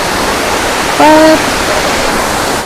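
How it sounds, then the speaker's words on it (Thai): The upper tier of Wang Kan Lueang waterfall in Lopburi roars as a steady, loud wash of rushing water that fills the scene, with a brief tonal sound rising above it partway through. "เดี๋ยวเราลงไปน้ำตกกันเลยนะ เดี่ยวกัน ดูว่าเสียน้ำตกจะเยอะไหมนะ"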